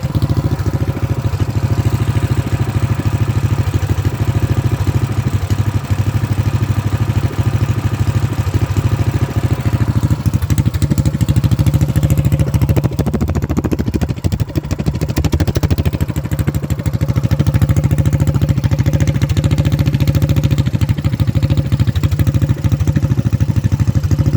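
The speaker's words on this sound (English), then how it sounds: "It's idling, the choke is off." A small Predator 224/212 gasoline engine idles steadily and close by with the choke off, a continuous low rumbling putter that holds unchanged throughout with no voices.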